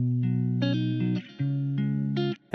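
Beat stems for a trap-style instrumental mixed without double-tracked stereo, a narrow, distorted synth and bass loop playing steady chords with rhythmic drops, no talking.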